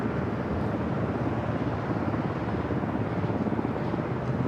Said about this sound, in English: Sounds like we might have a Coast Guard helicopter launching here soon.